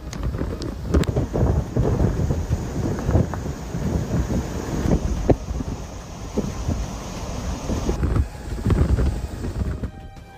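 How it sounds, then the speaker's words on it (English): A storm lashes Okinawa with heavy rain, gusting wind buffeting the microphone and repeated rumbling thunder cracks, close and loud across the whole stretch. "The storm hit Okinawa, causing the island to swirl in winds and rain."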